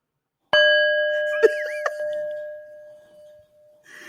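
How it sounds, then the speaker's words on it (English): A Tibetan bell struck once and ringing out alone, a clear sustained metallic tone with shimmering overtones that slowly decays over several seconds, with a couple of faint knocks during the ring. "use this Tibetan bell to soothe your wearied breast"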